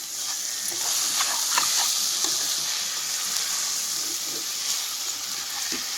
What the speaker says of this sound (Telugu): దొండక ముక్కలు వేసాం కదండి మగ్గనిద్దాం ఉల్లిపాయలు పచ్చిమిరపకాయలు మన దొండకాయలు